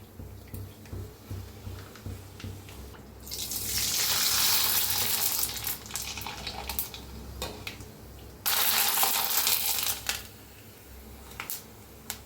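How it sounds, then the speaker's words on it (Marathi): Papad (lentil wafer) sizzling as it fries in hot oil, with two loud bursts of crackling bubbling over a steady low hiss, close and without talk. "बघा घालताच कसं तळायला लागलेलं आहे मस्त असं"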